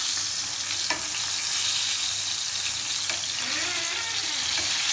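Fish frying gently in a pan over low heat, giving a soft, steady sizzle and hiss with occasional utensil scrapes and taps, close by and without talk.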